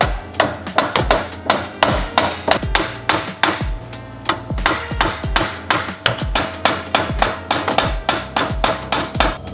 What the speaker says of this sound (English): we're going to use the weight of the hammer and repeated knocks rather than extreme force